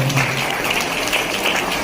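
Audience clapping at a local children's drawing competition event, a steady dense patter of many hands filling the space throughout, moderately loud and continuous with no voices over it.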